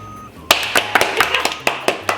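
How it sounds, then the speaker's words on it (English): Hands clapping to line up two audio recordings during a behind-the-scenes cookie-baking shoot, a series of sharp, close claps at uneven intervals over a low background hum. "I need someone to clap."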